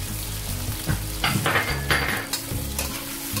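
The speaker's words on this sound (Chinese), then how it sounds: "用铲子翻炒均匀" A spatula stir-fries eggplant with shredded red pepper and soy sauce in a hot wok. A loud, continuous sizzle is broken by scraping, tossing strokes at an uneven rhythm, close up.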